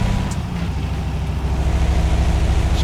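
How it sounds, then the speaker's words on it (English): Exhaust (Jake) brake of a Magirus Deutz 19/22D truck in Euro Truck Simulator 2, a loud, steady low diesel rumble with a rapid pulsing throb that holds for about three seconds. "That's the Jake brake, if you want to, or exhaust brake,"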